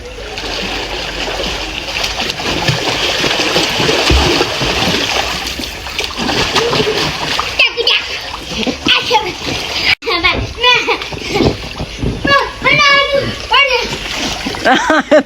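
Water splashes and churns continuously at close range, with children's voices calling over the noise and the splashing becoming more broken and choppy toward the end.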